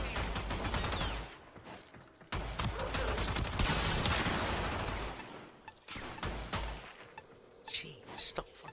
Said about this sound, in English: stop fucking shooting for a second